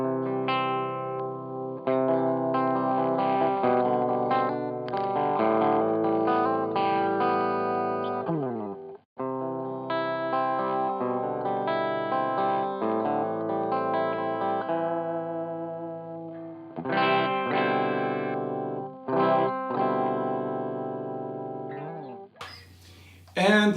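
A 2016 Gibson Les Paul Standard plays on its bridge humbucker with the coils split and the volume rolled back to 4, giving a crisp, lightly driven tone with strummed chords and single notes and short pauses between phrases.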